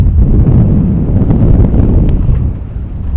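Strong gusts buffet the microphone in a loud, low roar, with the wash of sea and waves underneath off Sicily or Sardinia; no voices.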